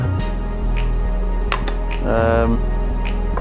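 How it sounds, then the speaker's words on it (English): Spice rub ingredients for Cajun spiced pork steaks, including salt, sugar and chili, are stirred together in a dish with light, close clinks and scrapes of a utensil over a steady background hum. "So we'll start by throwing all these ingredients into this dish and get them all mixed up."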